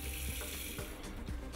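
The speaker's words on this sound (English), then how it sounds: "After cleaning, just rinse with water" Tap water runs into a Blanco Silgranit kitchen sink to rinse it after cleaning, a steady close splashing flow with a few small gurgling bursts.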